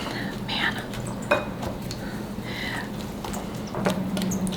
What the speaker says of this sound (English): mix all of this together with your little Christmassy spatula